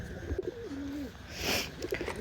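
Old-bloodline Khulna pigeons coo softly in a few short, rolling calls, close and quiet, with no voices around.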